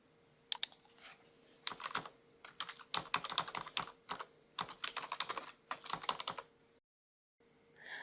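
Typing on a computer keyboard while entering a proxy address into Mozilla Firefox settings, heard as close, crisp bursts of rapid key clicks separated by short pauses, with a brief silent gap near the end.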